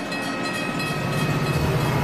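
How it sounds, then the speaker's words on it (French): A passenger train runs along the rails with a steady, dense rumble of wheels and carriages, close and continuous for a couple of seconds. "les trains de passagers peuvent de nouveau rouler"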